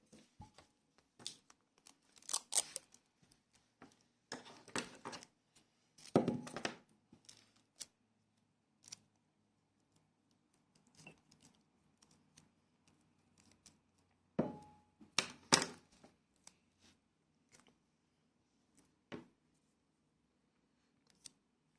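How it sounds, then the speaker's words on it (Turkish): Paper file folders are folded and taped with adhesive tape: scattered sharp tearing and crinkling bursts, some in quick clusters, separated by quiet gaps, close and moderately loud. "Katlıyoruz ve bu şekilde koyup bantlıyoruz."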